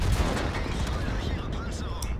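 A tank gun firing in a replayed video game battle, heavy booming rumble with repeated sharp reports throughout a dense, loud battle din.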